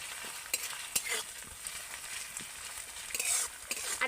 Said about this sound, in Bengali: আদা রসুন বাটাটা দিয়েও কিন্তু আমি ভালো করে একটু পেঁয়াজের সাথে ভেজে নেবো